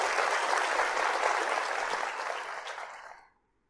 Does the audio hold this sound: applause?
yes